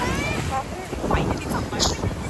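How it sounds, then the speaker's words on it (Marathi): Boat ride on the sea at Nagaon, with strong wind buffeting the microphone and rushing water and waves, loud and continuous, as someone speaks briefly over the noise. "येस आम्ही चाललोय बोट राईडला"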